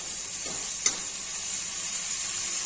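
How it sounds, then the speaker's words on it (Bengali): Spice paste of turmeric and salt frying slowly in a pan, giving a steady, quiet sizzle and hiss, with one brief tap midway. "আস্তে আস্তে মশলাটাকে ভাজতে লাগবে যেন পুড়ে না যায়।"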